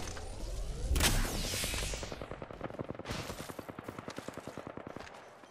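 Video game gunfire from an online shooter: a loud blast, then rapid bursts of automatic fire crackle in quick rhythmic volleys, fairly close and tapering off toward the end.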